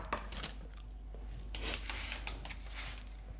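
A knife slicing through a homemade cake base, giving a few soft, close cutting and scraping strokes spread irregularly over a quiet background.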